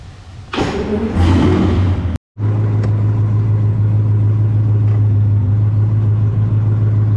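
A repaired car engine cranks briefly, cuts out, then catches and settles into a steady, loud idle that carries on to the end.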